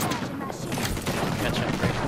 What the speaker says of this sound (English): we're being shot from top